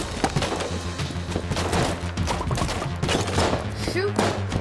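Dense, continuous gunfire from the bullet-hell game Enter the Gungeon, rapid shots layered over busy game music and effects at steady loudness throughout.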